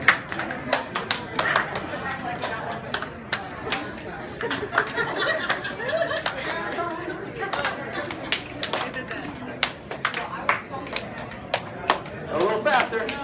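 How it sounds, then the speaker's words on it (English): A conference audience at a marketing event performs a body-percussion rhythm of claps, finger snaps and thigh slaps, many sharp overlapping hits in a loose repeating pattern, with scattered chatter and laughter throughout. "clap with a 1, snap with a 2, and then 3, slap your thigh"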